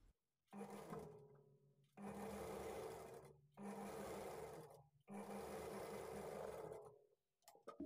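A sewing machine stitches a lined blouse in four sustained bursts of close, loud mechanical whirring, with short quiet pauses between runs.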